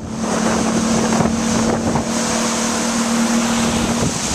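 A small motorboat's engine drones steadily nearby, a constant buzzing hum mixed with wind gusting across the microphone.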